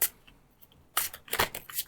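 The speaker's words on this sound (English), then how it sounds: "Give these a little shuffle." A deck of game cards for the board game Kingdom Legacy gets shuffled close up, with an opening riffle, a quiet pause, then several quick crisp bursts of cards flicking together.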